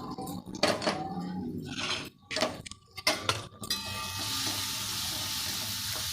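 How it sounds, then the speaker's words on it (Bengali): Soya mince with cumin powder, turmeric and Kashmiri red chilli powder being stirred and fried in a pan, a steady close sizzle with clinks of a spatula against the pan. "আবারও আমি ভালো করে এটা কষিয়ে নিচ্ছি"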